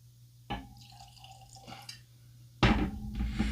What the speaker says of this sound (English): Let's get a pour on.